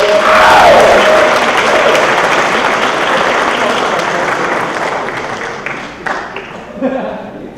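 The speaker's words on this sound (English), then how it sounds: "Let's have one more round of applause for all of" Audience at a university Asian American Studies lecture and student awards event applauds loudly and steadily, a dense wash of clapping that slowly fades toward the end.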